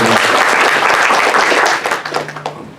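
Loud, close applause for the speakers after a conference panel session, dense clapping that thins into a few scattered claps near the end.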